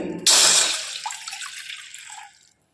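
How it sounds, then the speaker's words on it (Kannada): A glass of water pours into a pot for soppu saaru in one steady splashing stream for about two seconds, starting abruptly and thinning out to a trickle before stopping. "ಒಂದು ಗ್ಲಾಸ್ ನೀರು ಹಾಕೋತಾ ಇದ್ದೀನಿ"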